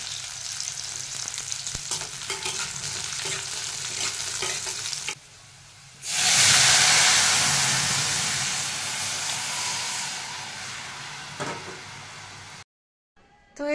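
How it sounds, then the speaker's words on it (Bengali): Chillies dropped into hot oil for tempering, loud steady sizzling that bursts up suddenly, then slowly fades, with stirring and light clatter before and after. "ফোড়ন তো দিতে হবে, আর আমরা একটু ঝালঝালি খাই, তাই লঙ্কা একটু বেশিই দিলাম পরিমাণে"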